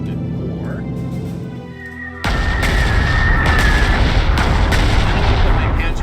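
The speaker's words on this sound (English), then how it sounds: "I'm going to use my heavy bomber, which is a weak-ass heavy bomber" A heavy bomber attack in the Panzer Corps 2 wartime strategy game sets off a sudden loud boom of bombing and artillery-like fire that rumbles on with repeated thuds, following a low droning lead-in.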